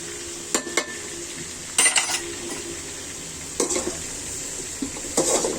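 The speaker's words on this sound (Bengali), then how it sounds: "নাড়াচাড়া করে দিব" Cauliflower being stirred with chili powder in a pot, the spoon scraping and clinking against metal in a few distinct bursts over a steady soft sizzle, close and clear with no talking.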